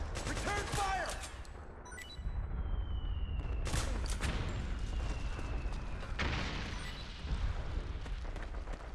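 Gunfire in the video game Metal Gear Solid 4: Guns of the Patriots, loud, dense bursts of shots and booming blasts running almost continuously, with shouted voices mixed in amid the battle noise.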